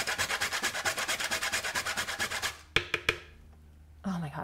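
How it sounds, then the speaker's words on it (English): Fresh whole nutmeg grated on a microplane for a raw apple cobbler, making a quick rhythmic series of close, dry scraping strokes, followed by a few sharp taps and a brief rustle. "So I'm gonna use my trusty little microplane and grate it fresh in there."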